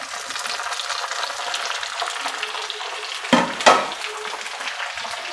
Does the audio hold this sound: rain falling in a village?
no